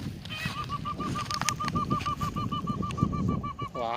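A peacock calls repeatedly outdoors in a wooded spot where peafowl graze under a tree, a steady series of loud, nasal honking cries in quick rhythm against a busy background of other ambient noise.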